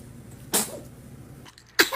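A baby sneezes twice, each a short sharp burst about a second apart, close and clear over quiet background.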